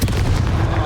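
A loud, heavy blast from the Confringo spell in Hogwarts Legacy, a booming explosion with a thick, rumbling body that fills the short moment up close.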